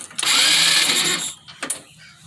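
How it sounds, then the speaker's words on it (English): An electric starter motor cranks the engine of a Batman-themed buggy that won't start, a loud whirring grind lasting just over a second before cutting off, followed by a short mechanical clunk. "You can hear the starter turn."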